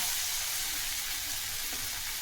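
Half a spoon each of cumin and coriander powder fry in hot oil, giving a close, dense and steady hiss of sizzling with a faint hint of stirring and no talk.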